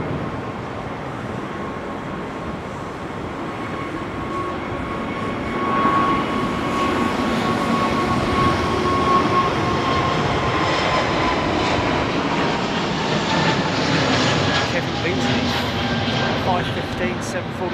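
An airliner departs London Heathrow in wet weather, its engines building into a loud, broad roar partway through with a faint tonal whine threaded across it, steady and fairly close.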